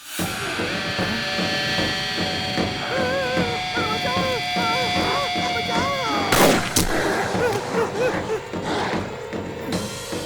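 Gunfire in a Hindi-dubbed Tamil zombie action film scene, a couple of sharp broadband shots cracking out around the middle over a dense soundtrack bed with musical hooting tones and background talk.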